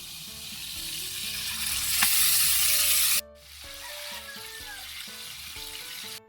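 Calamansi-marinated chicken frying in hot oil, a bright close sizzle that rises and then cuts off abruptly midway, after which quieter sizzling and a few soft clatters continue.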